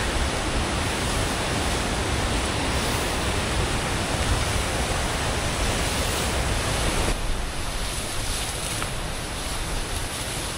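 Water rushes continuously at Dhodani waterfall near Panvel and Matheran, a loud, steady, broadband roar that fills the whole stretch without pause.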